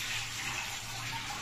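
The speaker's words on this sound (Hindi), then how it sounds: "हाँ जी टूटी खोलते हैं ऐसे पानी सीख में से गिरता है ना नीचे बाहर आ जाता है।" Tap water pours steadily from an opened faucet into a sink, a continuous broadband splashing rush, close and even throughout with no talk.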